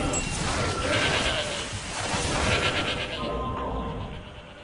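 A goat in the game Shadows of the Damned bleats in a loud, wavering, harsh cry that stretches across a few seconds and then tapers off, with a voice talking over it.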